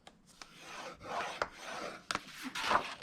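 A scoring tool drags along cardstock being creased for a DIY tower box, a few soft rasping strokes with sharp little taps between them, faint and close, with no talk.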